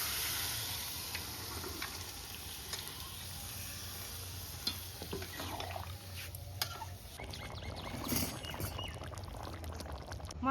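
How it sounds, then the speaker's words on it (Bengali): Mutton tipped into a pot of cooked spices and potatoes, followed by a low sizzle, faint pouring and stirring scrapes at moderate distance under a steady background hum. "এবার এই মাংসটা দিয়ে দিচ্ছি"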